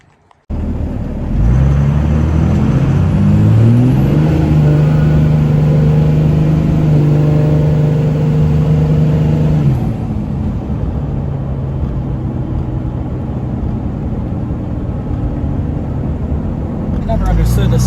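A second-generation Dodge truck engine revs and drives, a loud, steady mid-pitched drone with a rising tone early on, then a slightly lower cruising hum; a voice talks over it.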